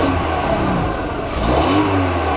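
A Mk4 Golf engine, just repaired for a misfire, revs up loudly and close by in one smooth, steady rise and fall without any stumbling, with no talking.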